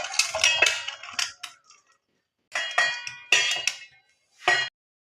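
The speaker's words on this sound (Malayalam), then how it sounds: "ഇനി നമുക്കിത് അങ്ങോട്ട് തട്ടിയിടാം ഒരു ചരുവത്തിലോട്ട്." Chopped onion and vegetables are tipped from a board into a metal pot in a home kitchen, giving several separate bursts of clattering, clinking metallic scrapes with quiet pauses between.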